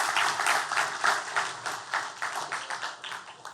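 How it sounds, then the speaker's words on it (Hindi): A church congregation applauds to welcome first-time visitors, a dense burst of many hands clapping that rises and then fades over a few seconds, with no talking over it. "बाकी लोग तालियों के साथ उनका स्वागत करें।"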